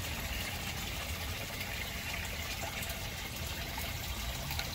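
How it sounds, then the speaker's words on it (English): Steady water flowing from an aquaponics effluent pipe drilled with many half-inch holes into a radial flow settling tank beside a 100-gallon fish tank, a continuous close wash of splashing and trickling with no talk. "So when the water flows out of the effluent pipe"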